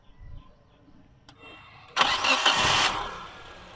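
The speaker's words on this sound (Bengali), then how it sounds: "1200 সিসি এর নিশান কোম্পানির অরিজিনাল ইঞ্জিন এটি স্টার্ট করেন।" An original Nissan Sunny 1200cc engine cranks briefly and then catches with a sudden loud start, settling into a steady idle, close up with no talking.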